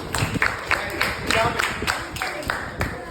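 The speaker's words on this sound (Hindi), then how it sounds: "ताली बजाओ उसके लिए।" Children in a class clap together for a classmate after a story, in a steady rhythmic beat of sharp, close claps about three per second, with voices in the background.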